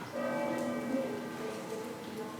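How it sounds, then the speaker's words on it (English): A church bell in Galicia, Spain rings the 5 p.m. hour with a sustained, shimmering tone and layered overtones, slowly fading under soft rain-like background noise. "The 5 p.m. bell just rang."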